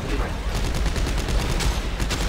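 Rapid sci-fi weapon fire in the video game Dead Space 3, a dense continuous burst of loud gunshots with a harsh crackling texture, heard without speech.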